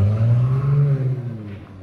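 A car engine hums steadily and close by as the car is driven toward a police station, its tone sliding a little before it fades slightly toward the end.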